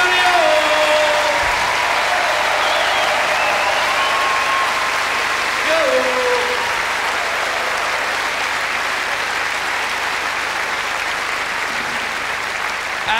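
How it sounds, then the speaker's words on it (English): Audience applause at a live 1994 comedy show, loud sustained clapping from a large crowd filling the whole stretch, with a voice briefly audible over it early on. "we'd appreciate it if you keep that applause going"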